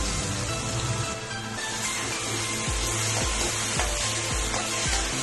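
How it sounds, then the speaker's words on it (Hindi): Cumin seeds and ginger garlic paste sizzle steadily in hot oil for stuffed tinda, a dense, even crackle that runs throughout, with a few soft stirring knocks in the pan underneath. "अब इसी ऑयल में ये आधा चम्मच जीरा, आधा चम्मच जिंजर गार्लिक का पेस्ट,"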